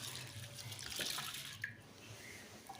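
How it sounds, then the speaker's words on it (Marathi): Toor dal being rinsed in clean water, with a steady splashing, running-water wash and a few brief drips, fairly quiet and without voices. "तुरीची डाळ पण चांगली स्वच्छ पाण्याने धुवून घ्यायची आहे"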